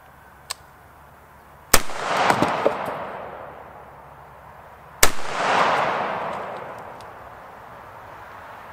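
Two sharp, loud 300 Blackout rifle shots fired outdoors with Sig Supersonic ammunition at a deer target, each crack followed by a long rolling echo, spaced about three seconds apart.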